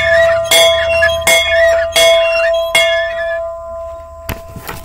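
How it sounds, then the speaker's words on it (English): A loud outdoor bell rings out in several separate strikes at irregular intervals, each stroke leaving a sustained metallic hum, followed by a brief clatter near the end. "And I also ring the bell when it's loud."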